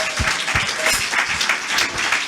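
Applause from a church congregation during a French-language worship service, a continuous wash of clapping with a few sharper rhythmic hand claps standing out near the front.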